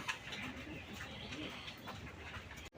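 Domestic local pigeons coo steadily and close by in a continuous, overlapping murmur of soft throaty calls lasting the whole stretch, with no talking.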